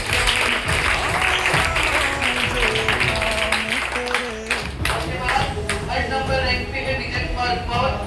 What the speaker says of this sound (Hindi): एक बार खड़ी हो जाए इसके लिए भी जोरदार तालियां।